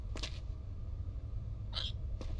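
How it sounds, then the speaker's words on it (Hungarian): Three short hiccups from a character in the video game Quarantine Zone: The Last Check, sharp spaced gasps heard over a steady low background hum, with no talking. "Na, meg csuklik."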